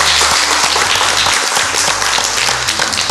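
A studio audience at a quiz-style team competition applauds loudly and continuously, a dense wash of clapping close by with low rumbling underneath for the whole stretch.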